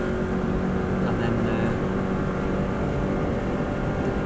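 A 2014 Subaru WRX STI accelerating hard along the Isle of Man TT road course, a continuous loud engine drone heard from inside the car while someone talks over it.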